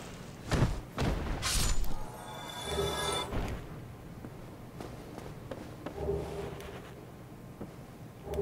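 Enemy-thrown bombs burst in Dark Souls Remastered's Undead Burg, with a few loud thuds and shattering impacts clustered early, then quieter scattered knocks and footsteps.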